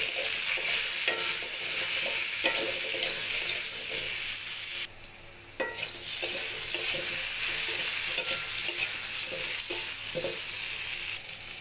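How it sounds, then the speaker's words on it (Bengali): Papaya, potato and pointed gourd frying in oil with turmeric and salt, a steady loud sizzle broken by spatula scrapes and one brief dip near the middle, no talking. "এবার সবজিগুলো ভেজে নিচ্ছি ওই তেলের মধ্যেই"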